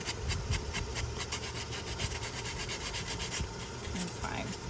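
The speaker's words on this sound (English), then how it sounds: "my sanding block here and round them off a little bit more" A hand sanding block with fine sandpaper rubs back and forth over the edge of a small DIY model jaw piece, giving a quick, even, raspy scrubbing rhythm that sounds close and fairly quiet.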